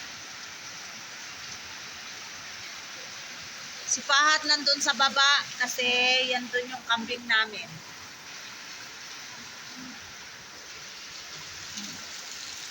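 Heavy rain falls as a steady hiss across a rural home, constant and enveloping, while someone talks briefly over it in the middle.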